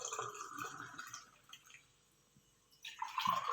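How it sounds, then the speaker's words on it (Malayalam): A mixed 7up drink being poured into a glass, heard as a soft liquid trickle that thins out and then swells into a brighter splashing pour at the end. "ഇത് ഗ്ലാസ്സിലേക്ക് ഒഴിക്കുകയാണ്"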